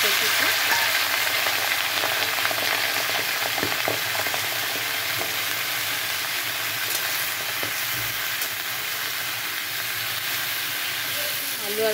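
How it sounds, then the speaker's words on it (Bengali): Taro and potatoes fry in hot mustard oil with cumin seeds and bay leaves, a steady dense sizzle lasting throughout, close and fairly loud, with occasional faint clinks of stirring. "কচুটা একটু ভাজা ভাজা করে নেব। একটু ভালো করে এটাকে ভেজে নিতে হবে।"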